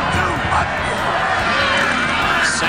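A football stadium crowd in Hamilton cheers and roars loudly and continuously at a CFL game, with a broadcast commentator talking over the noise.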